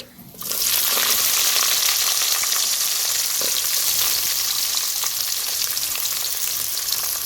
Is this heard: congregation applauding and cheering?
no